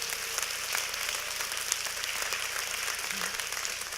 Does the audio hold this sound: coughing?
no